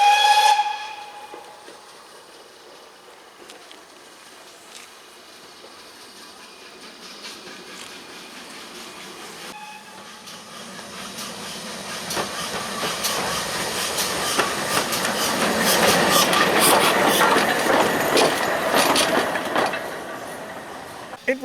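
A steam locomotive runs round its train of Mark I coaches on a heritage railway, opening with a sharp steam whistle, then building to loud hissing steam and rumbling, clanking wheel and rail noise up close.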